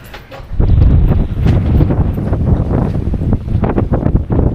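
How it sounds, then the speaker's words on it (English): Strong wind buffets a sailboat near Cat Island, roaring loud and gusty against the microphone after a sudden onset, with no talk. "Darn this wind. It just won't let up."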